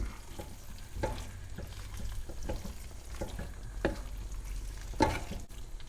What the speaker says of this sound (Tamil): ஒரு கைப்பிடி அளவு கொத்தமல்லி தழை போட்டுக்கலாம். நல்லா கிளறி விட்டுறலாம்.